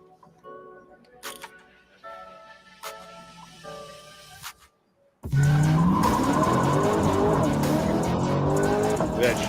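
Corvette SVJ supercar passing close by, a quiet lull with faint traffic and voices suddenly giving way at mid-clip to a loud, sustained roar of engine and tire noise.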